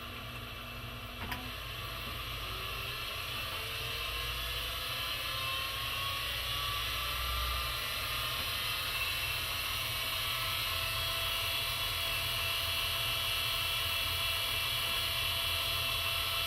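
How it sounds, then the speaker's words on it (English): A CNC machine spindle spins up with a steady high whine that holds under a constant mechanical hum and a faint ticking, with no talking. "we've got the spindle running. Dial up 3000."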